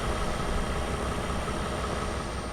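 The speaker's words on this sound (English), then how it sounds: "Start the engine." A truck engine in Euro Truck Simulator 2 idles steadily with a deep, constant rumble and hum, unchanging and without any voices.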